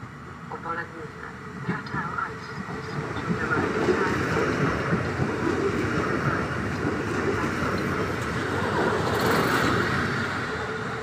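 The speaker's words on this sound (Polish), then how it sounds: "Intercity train Chełmoński." An Intercity train, the Chełmoński, passes a station platform in Goleniów as a steady, loud rolling rumble that builds over several seconds and holds, with an announcement-like voice faintly underneath.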